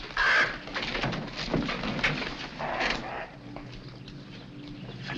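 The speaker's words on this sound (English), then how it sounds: "Oh, that dreadful bird." A pigeon coos in a 1940s Sherlock Holmes mystery film, soft repeated calls sitting over a muffled, noisy old soundtrack with a faint creak, fairly close and unbroken.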